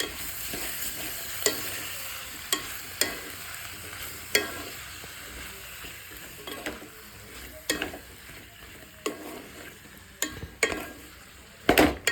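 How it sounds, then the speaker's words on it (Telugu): Spoon stirring brinjal curry in a pan, with a steady soft sizzle of frying underneath and scattered sharp scraping clicks of the spoon against the metal, close and alone. "చూసారుగా, మంచిగా కలుపుకోండి"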